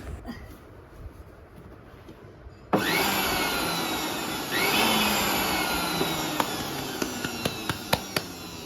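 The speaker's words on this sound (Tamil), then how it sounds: "மிக்சியை க்ளீன் பண்ணியாச்சுங்க. ஆன் பண்ணி பார்ப்போம் ஒர்க் ஆகுதான்னு." A kitchen mixer grinder, just cleaned and repaired after an overload switch fault, whirs to life after a quiet start. It holds a loud, steady high-pitched motor roar with a few sharp clicks and knocks toward the end.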